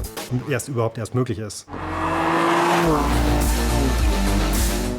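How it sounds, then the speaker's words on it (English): BMW M3 F80 sedan or M4 F82 coupe with a high-revving twin-turbo inline six of 431 horsepower, a loud sustained engine drone rising in pitch as it accelerates, following a stretch of talk. "The new high-revving 6-cylinder inline engine with M twin-power turbo technology provides 431 horsepower"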